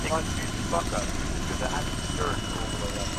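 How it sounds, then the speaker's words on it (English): In the Arma 3 video game, a helicopter's rotor thrums steadily with a rhythmic beating chop, loud and continuous, while a voice talks faintly over it. "Not this helicopter."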